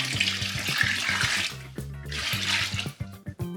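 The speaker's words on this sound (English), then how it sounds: "I'm gonna add in about 500 mils of water and that should cool it down a little bit further." Water is poured into a batch of Irish-style homebrew beer to cool it from about 30 degrees, a steady splashing pour with gurgling bursts that fades and sputters near the end; no one speaks.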